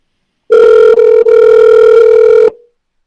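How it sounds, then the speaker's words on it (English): A phone call goes out and a single loud, steady ringback tone sounds for about two seconds with two tiny breaks, then cuts off, heard alone with no talking. "Phone's going to ring, bro,"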